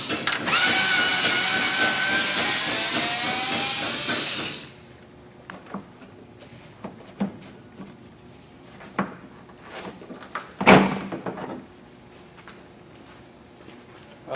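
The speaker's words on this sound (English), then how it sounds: "So let me get the headlight out of here." Work on a 2011 Ford F-150 to remove the headlight starts with a loud power-tool whir lasting about four seconds. Scattered plastic clicks, taps and clatter follow, with one sharper knock near the end.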